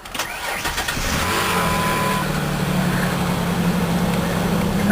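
A 2003 Ford Ranger XLT with about 89,000 miles cranks with a brief whirring starter, catches, and settles into a steady, fairly loud idle close by.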